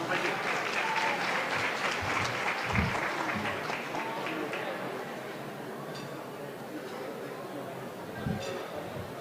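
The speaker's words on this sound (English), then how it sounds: "Please give them a round of applause" A crowd applauds at a Ramadan iftar gathering, sustained full clapping from many hands over a background murmur of chatter, holding steady throughout.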